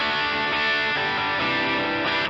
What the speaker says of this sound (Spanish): Ahora sí tengo el overdrive enganchado en single coil. Pongo en humbucker.